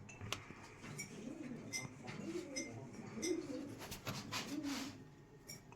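Pigeons for sale, pied and King breeds among them, coo softly and repeatedly in a quiet indoor loft, low rolling calls with light rustling and faint chirps around them.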